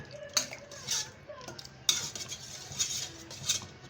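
Chicken broth is poured onto taro in a cooking pot, with scattered metallic clinks of a utensil against the pot and a soft splashing wash between them, fairly quiet and close.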